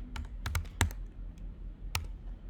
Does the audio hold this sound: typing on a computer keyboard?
yes